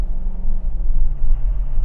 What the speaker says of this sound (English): That sounded like a diesel. It does sound a bit rattly,